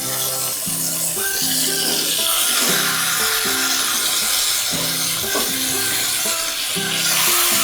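Chicken drumsticks sizzle steadily in hot oil in a pan throughout, a bright hiss sitting beneath louder music with a stepping melody.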